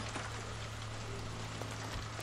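Steady rain pours over a city street on a rainy morning in the L.A. Noire video game, a constant close hiss with a low hum beneath and no voices.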